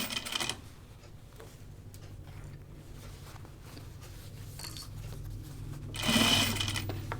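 A sewing machine stitches a jacket collar in a home workshop, with soft, quick rhythmic needle clatter running steadily and closely, framed by louder handling bursts at the start and near the end.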